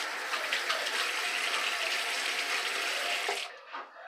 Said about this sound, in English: I'm just going to wet my face.